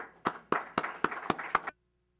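An audience claps to welcome speakers to the stage at a policy discussion, with about six distinct, evenly spaced bursts of clapping before it stops abruptly into silence.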